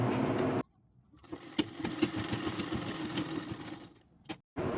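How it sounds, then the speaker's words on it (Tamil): Sewing machine stitching blouse fabric, a steady mechanical whir running for about three seconds between quiet pauses, close and clear with no talking. "இப்போ அப்படியே தைக்க போகிறேன்"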